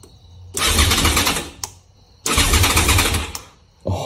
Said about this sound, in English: Let's do a crank test.